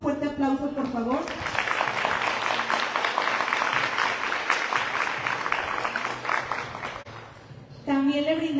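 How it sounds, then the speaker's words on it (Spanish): Audience at a ceremony in a Zacatecan clubs federation setting applauds steadily for several seconds, a dense wash of clapping that swells after a brief spoken introduction and fades as a voice resumes at the end. "Les brindamos un fuerte aplauso, por favor."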